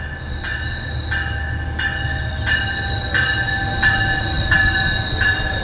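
Metrolink passenger train running, a steady rumbling roar with a faint repeating tonal whine from the rails rising and falling at regular intervals, continuous and close from on board, no talking.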